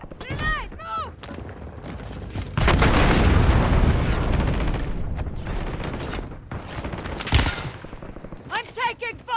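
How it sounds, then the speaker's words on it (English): Grenade blast in Call of Duty: Warzone, a heavy boom followed by a long rumbling roar amid rapid gunfire, with voice callouts before and after. "Grenade, move!"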